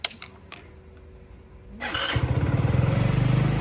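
A motorcycle engine catches after a few faint clicks and keeps running close by, a steady, loud, throbbing idle with a slight rev. There are no voices.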